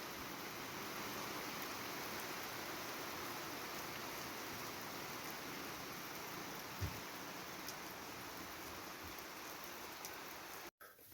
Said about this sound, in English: Holy crap, it is just pouring now.